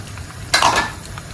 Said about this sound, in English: Our oil has melted. I'll go ahead and add my shredded onions.